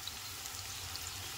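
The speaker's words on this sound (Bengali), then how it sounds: "নেড়ে দিয়ে আবার 2 থেকে 5 মিনিটের জন্য ভাজবো" Potatoes frying in oil in a pan give off a steady, soft crackling sizzle that runs evenly throughout without pause.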